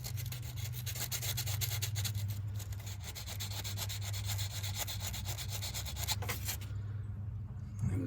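Distributor ignition points on a Buick 225 engine in a Jeepster being sanded with 180 grit sandpaper, close, quiet rapid back-and-forth rubbing strokes in a steady rhythm, stopping near the end, no talk.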